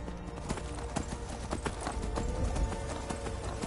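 Horse hooves clip-clop steadily in a video game, a dense rhythmic trot over a busy, loud game soundscape with no talk.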